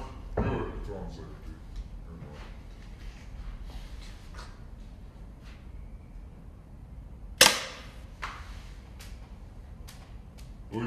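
A pistol fires a single sharp, loud shot partway through at an outdoor range, with a smaller pop near the start and quieter clicks and handling noises around it.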